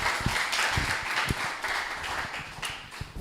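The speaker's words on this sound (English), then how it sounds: "can I have another round of applause, please, at this song too?" An audience claps after a song at a collection launch event, a moderate, somewhat uneven patter of hands with a few heavier thumps mixed in, at a fairly even level throughout.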